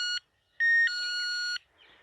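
A motion sensor alarm gives shrill electronic beeping with a steady high tone: a short beep, a pause, then a long sustained beep before quieter background noise.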